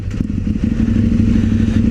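A KTM 1190 motorcycle engine idles loud and close, a steady, rough low thrum with uneven pulsing and no voices over it.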